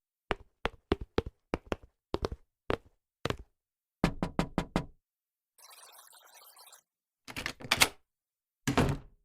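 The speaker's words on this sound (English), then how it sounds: "I'll knock on the door." Sharp knocks on a door in a radio drama, delivered as quick clusters of raps separated by pauses, close and crisp with no talk.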